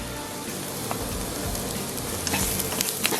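Minced garlic hits a hot pan of softened onion for japchae, giving a loud, continuous crackling sizzle throughout, close up and with no talking.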